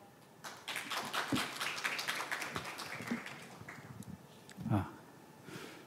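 An audience at a corporate ESG forum claps to welcome a speaker to the stage, a quiet, scattered round of applause with uneven individual claps rather than a full ovation.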